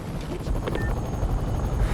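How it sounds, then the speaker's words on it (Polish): A helicopter in the Spider-Man video game gives a steady, droning rotor roar that holds evenly throughout, fairly loud, with a brief faint tone passing over it and no talk. "Jeszcze tam jest helikopter."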